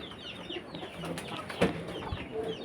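Backyard chickens about to be fed cluck softly and intermittently, faint and somewhat distant, with a few sharper calls over a low background.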